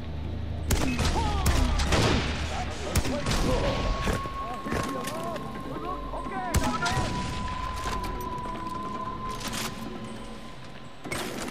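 Scattered gunshots and heavy booming artillery thuds from a custom outpost map in the video game Far Cry 4, irregular sharp cracks and thumps set against a lower background hum.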